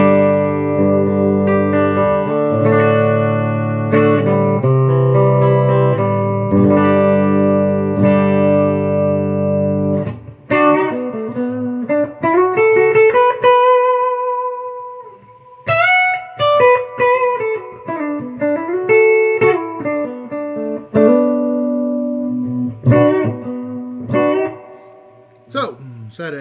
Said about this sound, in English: bridge pickup, here's the clean tone, all knobs at 10.